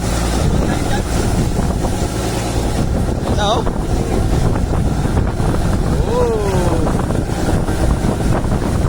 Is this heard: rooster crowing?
no